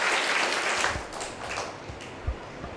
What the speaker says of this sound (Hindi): एक बार बच्चों के लिए जोरदार तालियां आपने बजानी चाहिए।